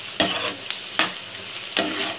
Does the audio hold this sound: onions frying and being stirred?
yes